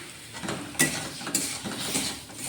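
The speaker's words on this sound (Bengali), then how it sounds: "একটু নাড়াচাড়া করি টমেটোটা নরম হয়ে যায় যাতে" Chopped tomatoes being stirred in a pot for tomato soup, giving a steady scraping and rustling with a few sharper clinks of the utensil against the pot, moderately close.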